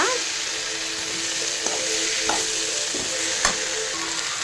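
Tomatoes fry in a pan, giving a steady loud sizzle with a few sharp clinks of a spoon stirring, no voices.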